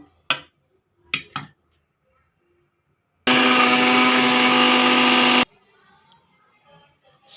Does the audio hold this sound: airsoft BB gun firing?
no